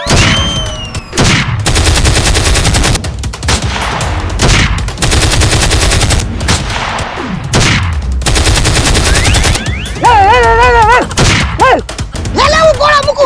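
Comic village scene with bursts of loud machine-gun fire and single gunshots in rapid rattling volleys, separated by short gaps, with voices shouting and talking between the bursts.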